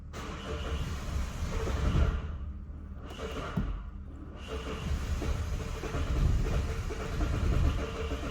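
Mazda diesel car with a blocked DPF being cranked and started in a garage, a low, rumbling engine sound running throughout with surges and brief dips, fairly close and with no talk.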